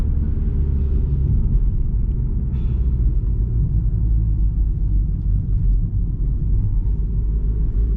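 A passenger car drives along a narrow mountain road in Poland, heard from inside as a steady, loud low rumble of engine and tyres with no talking.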